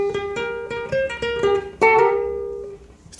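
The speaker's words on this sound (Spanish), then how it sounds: "Estoy jalando desde medio tono antes" Guitar notes plucked in a quick rhythmic series, including a string bent up from a half tone below, ringing clearly and close, the last note sustaining and fading out alone.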